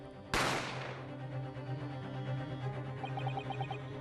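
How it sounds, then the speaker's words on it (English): A single sharp gunshot cracks out near the start in the video game The Great Ace Attorney Chronicles, its report decaying over a second, followed by low background music and a short series of soft tones. "You heard the gunshot, you mean?"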